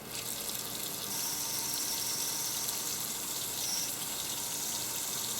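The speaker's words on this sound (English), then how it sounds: "we're going to put in just enough water here" Water pouring steadily into a pressure cooker filled with about three pounds of raw peanuts, a continuous close gushing splash with no pauses.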